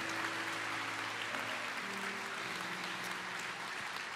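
Church congregation applauding during a worship service, a dense, steady wash of clapping from many hands with faint sustained keyboard tones beneath.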